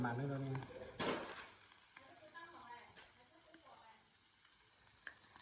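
Meat sizzles on a hot grill with crackling pops and a soft hiss, loud at first then settling lower, with a voice briefly heard.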